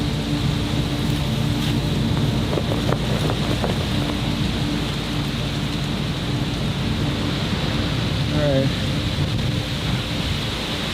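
Steady rain pours down in a Godot-made video game with a low rumbling backdrop like distant thunder, constant and fairly loud, with no talking.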